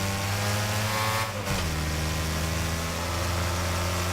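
A car engine in the racing game Wreckfest holds a steady, loud mid-pitched drone, then dips briefly as it shifts gear and carries on at a slightly lower, even tone, with no talk.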